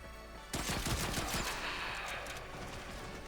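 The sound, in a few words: Zhuge crossbow weapon firing bolts in a video game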